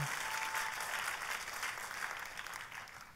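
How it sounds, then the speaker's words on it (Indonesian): A church congregation applauds steadily, a dense wash of clapping that holds for a few seconds before tapering slightly. "boleh saya dengar tepuk tangan yang paling meriah buat Yesus Tuhan kita"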